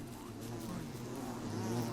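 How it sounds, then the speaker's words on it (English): Bees buzz steadily in the survival game Don't Starve, a low continuous insect drone holding at an even, fairly faint level under ambient game sound, with no talk. "Lots of bees."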